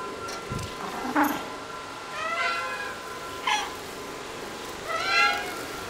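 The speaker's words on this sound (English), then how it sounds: "Hello, kitties." Several cats meow in the video game Stray, with about four separate drawn-out meows spaced a second or so apart over a faint ambient background, fairly close and clear.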